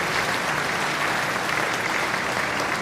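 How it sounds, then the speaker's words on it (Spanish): A large audience applauds steadily and densely at a conference on sustainable industry and transport economics, a full, continuous wash of many hands with no talking over it. "pedirle un gran aplauso para ellos"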